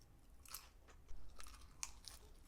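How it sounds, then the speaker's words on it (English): Quiet, close crunching bites and chewing of raw cucumber, a few crisp snaps spread over a couple of seconds. "Crispy, crunchy cucumbers."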